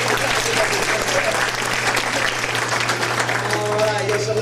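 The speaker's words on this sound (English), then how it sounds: "Give him another big round of applause" An audience gives sustained, dense applause for an award recipient at a ceremony, steady and loud throughout with faint crowd voices mixed in.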